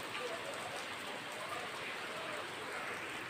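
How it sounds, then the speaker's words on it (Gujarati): Steady rain pours down in a dense, even hiss with no breaks, filling the whole stretch at moderate loudness. "જોઈ લો હજી વરસાદ આમને ચાલુ જ છે હજી બંધ નથી થયો."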